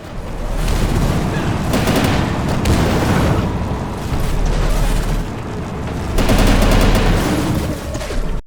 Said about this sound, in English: Go on and grab the submachine gun in this room.